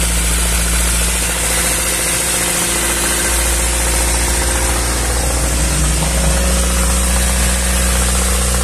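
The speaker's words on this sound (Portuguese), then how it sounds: "Tem um barulho de batida do motor" A car engine idling with a knocking fault during an internal sludge flush treatment, a loud, steady close-up rumble with a persistent fine rhythmic tapping and vibration, no voices.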